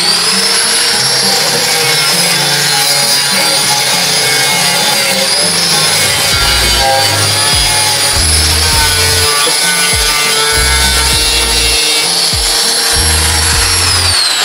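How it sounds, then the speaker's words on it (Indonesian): An angle grinder working on a leaking motorcycle fuel tank during repair, a loud continuous high-pitched whine with a grinding rasp that shifts as pressure changes, up close with no talking. "di gerinda dulu yang sedikit yang ini, biar teman-teman lihat ya."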